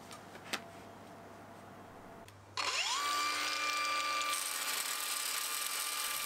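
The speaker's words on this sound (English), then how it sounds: "For that, I'm going to use one of these wire wheels for the angle grinder." An angle grinder fitted with a wire wheel scrubs rust off old saws. The motor spins up with a rising whine about halfway in, then holds a loud, steady, close-up buzz with harsh brushing noise, and no talking.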